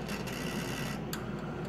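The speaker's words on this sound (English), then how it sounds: "And the unit includes a thermal printer" Thermal printer of a Rudolph Auto EL III ellipsometer printing, a close, steady buzzing rasp running the whole short stretch with a slight rhythmic chatter.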